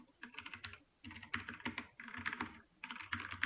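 Rapid typing on a computer keyboard in bursts of clustered key clicks with brief pauses between, close and fairly quiet.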